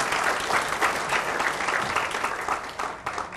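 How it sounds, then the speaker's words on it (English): Audience applause at a talk on the gold market and gold as an asset class, dense and steady throughout at close range, with no voices breaking through. "give me a round of applause?"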